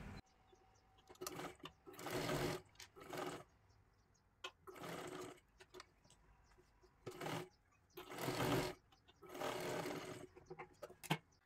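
A sewing machine runs a single line of stitching along the very edge of a blouse sleeve, in several short bursts separated by pauses, fairly quiet.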